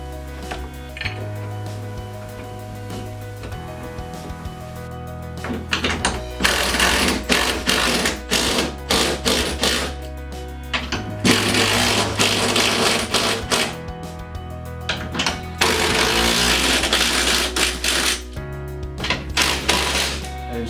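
A drill drives screws to mount a bathroom grab bar, with repeated bursts of buzzing motor whine and clicking, clinking bits between, close and fairly loud.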